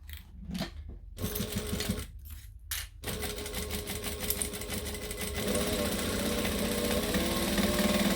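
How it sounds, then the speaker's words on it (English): Sewing machine tacking a bag seam at a 1/8 inch seam allowance: a few short stop-start bursts, then a steady, close, continuous stitching run with no talk. "Then I'm going to tack that in place with a 1/8 of an inch seam allowance"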